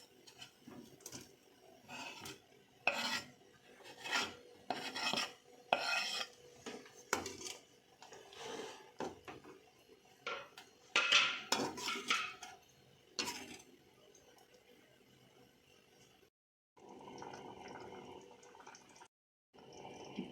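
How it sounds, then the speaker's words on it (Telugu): Paneer stirred into a hot masala gravy in a pan, giving irregular scraping and rubbing strokes of a spoon against the metal with soft sizzle between them, fairly close and quiet, alone without talk. "ఇప్పుడు మనం పన్నీరు వేసుకొని కలయి పెట్టుకుందాం."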